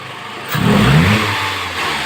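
A Toyota Camry 1AZ engine after an overhaul starts with a short crank and then revs up loudly, settling into a steady elevated idle, close by with no talking.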